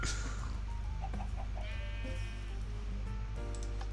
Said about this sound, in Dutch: Pig. Chicken. Sheep.